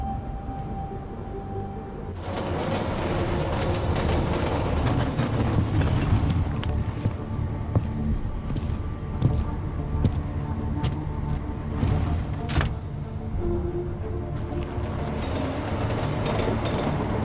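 Train riding along the tracks in Deus Ex: Mankind Divided, a steady loud rumbling roll with rattling clanks and rushing wind that starts abruptly after a quieter opening and continues without talk.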